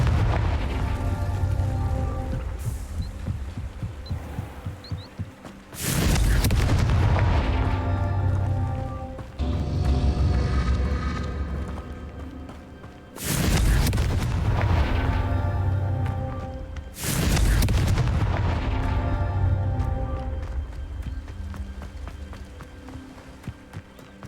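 Four loud, broadband Confringo fire-spell blasts in Hogwarts Legacy burst out at roughly even intervals, each decaying into a crackling roar over a sustained bed of game music and ambience.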